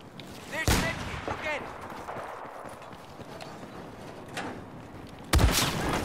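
Two sharp sniper rifle shots in the video game Battlefield, on the Shanghai map, crack out at the start and near the end over a steady bed of game battle noise.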